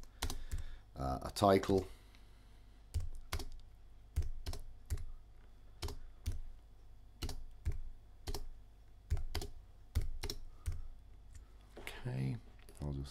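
Close keyboard typing on a computer: bursts of crisp key clicks in irregular clusters spread across the stretch, with brief speech near the start and end.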